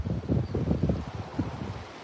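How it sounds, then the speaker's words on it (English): Steady wind of an approaching hurricane in Fort Myers blowing against the microphone, a low rumbling buffet that rises and falls in gusts with no voices. "We can already hear the wind whistling and blowing"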